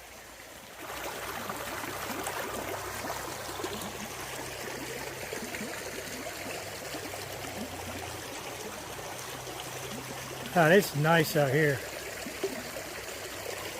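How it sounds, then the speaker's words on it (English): Steady broadband rush of a flowing creek in a wildlife reserve fills the clip, with someone speaking briefly near the end over the stream. "Trying to cross the creek."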